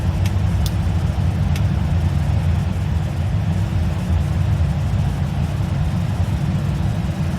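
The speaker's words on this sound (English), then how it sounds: "you can hear the engine revving up in the back" Airbus A319 jet engine spooling up in Microsoft Flight Simulator X, a steady low rumbling drone with a faint high whine above it, continuous and unchanging at close range with no talk.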